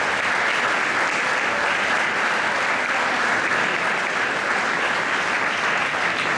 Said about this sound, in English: let's give a round of applause for your parents for taking the time